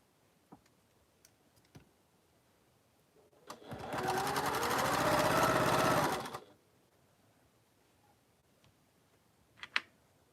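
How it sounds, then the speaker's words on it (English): A sewing machine stitches quilt rows together in one continuous burst of rapid mechanical whirring lasting a few seconds, framed by quiet handling clicks and small taps before and after. "I'm now sewing my row 6 onto the first 5 rows at the beginning"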